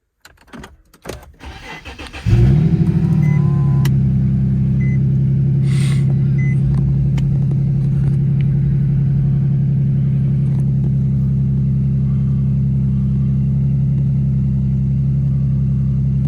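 Infiniti G37xs with an aftermarket catback exhaust cranks, fires up with a loud surge, then settles into a steady, deep, close idle, following brief clicks and rustling.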